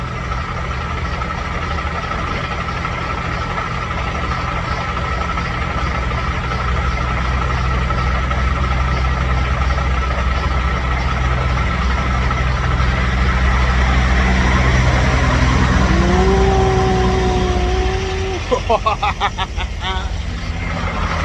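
A parked semi truck idles loudly at close range with a steady low diesel rumble throughout, and a brief higher whine and some light rattling come in near the end.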